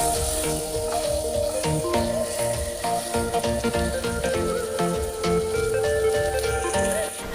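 Battered pigeon sizzles in hot oil in a wok, a steady crackling fry running throughout beneath background music.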